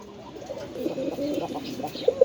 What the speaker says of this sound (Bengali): এটা টোটালি তিন পটি লাল গিয়ারের অরিজিনাল পাকিস্তানি রবিডে কবুতর